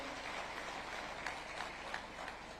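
A crowd claps together at a public event in Nagpur welcoming Nitin Gadkari, a dense, even patter of applause heard from within the audience, steady and moderately loud throughout.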